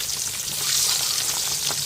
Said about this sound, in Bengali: ডিমগুলো তেলের মধ্যে ভাজা হচ্ছে